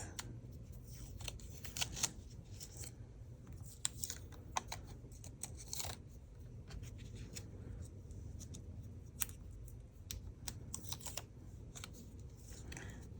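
Masks being peeled off a handmade Christmas card, giving a string of soft, crisp paper tearing and rustling sounds close by, with small clicks and ticks scattered through a faint background hum.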